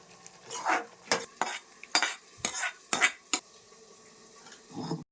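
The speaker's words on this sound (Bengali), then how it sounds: "এটা একটু নেড়ে চেড়ে একটু ঢেকে দিব আমার চাটনি হয়ে গেছে" Vegetable chutney with green peas is stirred in a pan, giving a run of distinct scraping and clinking spoon strokes against the metal, close and fairly loud, with short pauses between them and no talking.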